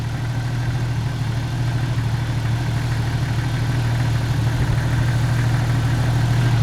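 A Jeep TJ engine idles steadily just after a cold start, a constant low-pitched rumble with a faint mechanical hum that stays even and loud from start to finish, with no voices.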